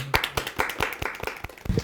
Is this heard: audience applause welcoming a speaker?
yes